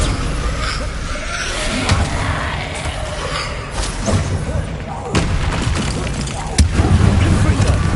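Confringo fire-blast spells explode in Hogwarts Legacy combat, with repeated heavy booms and thuds over a dense, continuous roar of battle noise.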